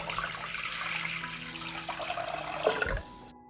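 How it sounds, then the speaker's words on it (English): A liter of water poured into a cooking pot, a steady splashing gush that rises in pitch and then cuts off abruptly, close and moderately quiet. "I will pour a liter of water into the pot."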